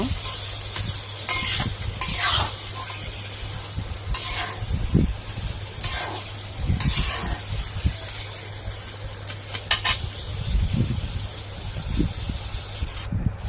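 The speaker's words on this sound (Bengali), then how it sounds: "মাংসটা দেওয়া হয়ে গেল ভালো করে কষিয়ে নিব" Chicken meat sautéing in a pan makes a loud, continuous hissing sizzle, with repeated scraping bursts as the pieces are stirred and turned.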